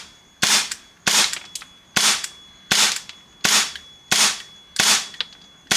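Shots fired through an ESHOOTER Flare Cube BT tracer unit, a regular series of seven loud, sharp cracks about a second apart, each with a brief decaying tail, close by and with no talking.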